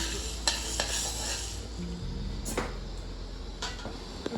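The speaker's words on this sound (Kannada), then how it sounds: "ನೋಡಿ ಮೆಣಸು ಐದೈದು ನಿಮಿಷ ಹುರ್ಕೋಬೇಕು ಐದು ನಿಮಿಷ ಹುರ್ಕೊಂಡ್ರೆ ಸಾಕು" Half a kilo of dried red chillies dry-roasting in a pan for sambar powder, giving a soft continuous rustle and sizzle with a few brief scraping knocks from stirring.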